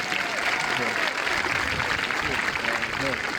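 Students and guests at a Windber Area High School time capsule event give steady, dense applause that fills the room evenly from start to finish, with a voice faintly audible underneath.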